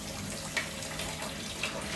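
Water runs from a tap in a renovation setting, a short steady splashing stream with slight bursts, no talk.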